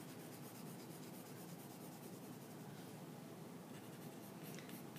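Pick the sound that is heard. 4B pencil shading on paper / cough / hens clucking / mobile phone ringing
4B pencil shading on paper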